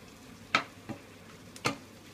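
Corn being stirred in a hot pan for Thai pad kra pao with minced pork, three short scraping clinks of the utensil against the pan over a faint background hiss.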